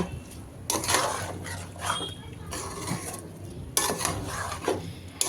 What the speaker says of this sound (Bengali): এখন আমি কষানো মাংসটার সঙ্গে সবজিটাকে এবং পোলাও চাল সব কিছু একসাথে নেড়ে চেড়ে খুব সুন্দর করে মিশিয়ে নিচ্ছি